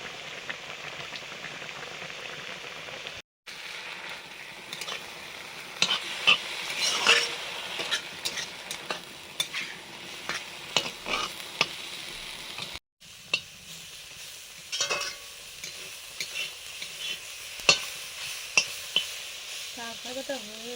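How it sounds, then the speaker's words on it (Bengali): Fish sizzles and spits in hot oil in a pan while cooking for a Bengali fish curry, a soft steady crackle broken by brief clinks and stirring sounds. "ভাজাটা হয়ে যাচ্ছে।"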